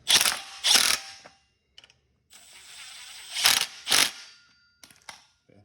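A ratchet clicks in quick bursts while tightening the clutch bolts on a Ryobi weed eater, with rapid metallic ratcheting, brief pauses and a few lighter clicks near the end, close and clear.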